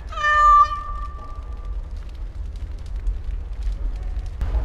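A cat in the Dragon Age Awakening video game gives a single clear, drawn-out meow near the start, then the rest stays quiet with only a low background hum.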